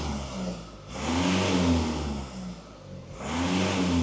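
A Volvo car engine, idling with a fault, is revved twice in close succession, each blip swelling to a loud steady roar before falling back, heard up close with no talking.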